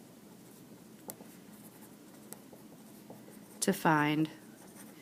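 Pen or marker writing math notes during a lesson on the rational root theorem: faint, sparse scratching strokes under a quiet background, followed near the end by a brief burst of speech.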